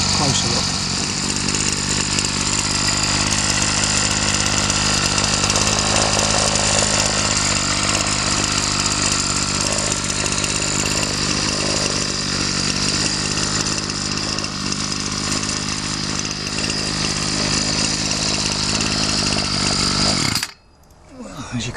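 A Ryobi 705R strimmer's small two-stroke engine runs continuously at close range, a loud, buzzy drone that holds steady for about twenty seconds before cutting off abruptly near the end.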